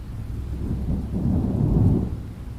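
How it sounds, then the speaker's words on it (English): Thunder in a storm rumbles low and loud across a ridge, rolling and swelling for a couple of seconds before easing off, with rain faint beneath it. "the first thunder rumbled across the ridge."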